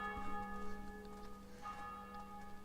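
Church bells ring steadily in Assassin's Creed II, a sustained tonal chime with several bright overtones lasting the whole moment at moderate level, with a fresh strike partway through.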